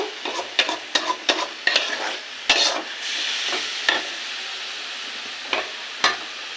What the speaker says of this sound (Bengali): এবার শাকটাকে ভালো করে নেড়ে চেড়ে রসটা শুকিয়ে নেব।